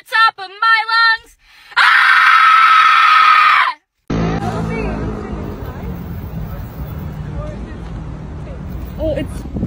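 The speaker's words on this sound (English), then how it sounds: "I scream at the top of my lungs" A person screams loudly at the top of their lungs in a sustained, strained yell, preceded by short vocal bursts and followed by a noisy stretch of talk and background sound.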